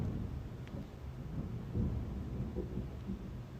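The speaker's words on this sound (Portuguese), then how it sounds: "se você escutar um barulho muito alto aí, são os trovões" Low thunder rumbles through a heavy rainstorm outside, rolling and swelling over a steady rain hiss, distant and without any voices.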